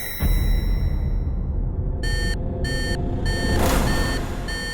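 An electronic alarm beeps in repeated short bursts at an even rhythm, loud and close, over a steady background hum.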